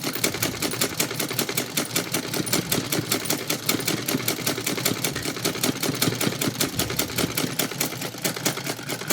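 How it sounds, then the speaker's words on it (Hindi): A sewing machine stitches over a seam on a blouse with a fast, even mechanical chatter that runs nonstop at a steady rhythm, close up, with no talking. "ये हमने सिलाई लगा दिया फ्रेंड्स"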